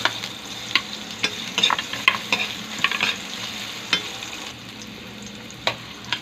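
Ginger sautés in hot oil in a pan as a prelude to fish paksiw, a steady close sizzle broken by sharp spatula scrapes and clicks at irregular intervals, with no voices.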